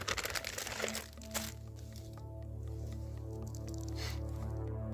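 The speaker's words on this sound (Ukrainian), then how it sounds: "Открываем зип-пакет." Plastic crinkles and rustles close by, with a few sharp squishy pulls as the zip bag of a Ukrainian army ration heater is opened, then a steady faint hum.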